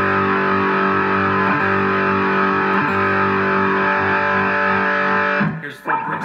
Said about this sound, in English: I'm going to put on a little bit more distortion.